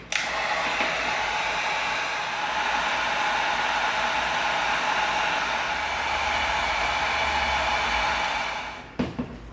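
A heat gun blowing steadily to heat seal EVA foam, a loud continuous whooshing hiss lasting about nine seconds before cutting off with a few clunks.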